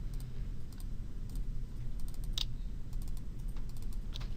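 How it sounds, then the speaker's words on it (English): Computer keyboard and mouse clicks while marqueeing objects in a 3D chair modeling program, with scattered sharp clicks, some in quick double pairs, over a steady low room hum. "So I'm just holding shift or double clicking."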